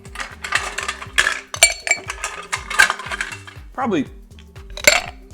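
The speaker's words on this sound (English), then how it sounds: "take your cocktail shaker and put some ice in it" Several ice cubes clatter and clink into a metal cocktail shaker for a whiskey sour, a series of sharp, close, bright knocks and rattles, with a brief spoken word among them.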